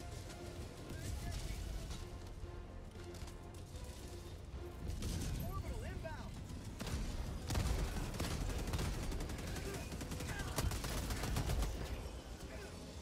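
Gunfire in the Helldivers 2 video game, repeated bursts of shots running through the whole stretch alongside ongoing voice chat and game noise, fairly loud and dense.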